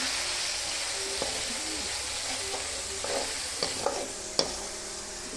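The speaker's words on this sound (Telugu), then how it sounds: "ఇది కూడా ఫ్రై చేస్తున్నాను ఆయిల్లో వేసేసి" Masala frying in oil for stuffed brinjal curry, a constant hissing sizzle with occasional sharp clicks and scrapes of a ladle stirring in the pan.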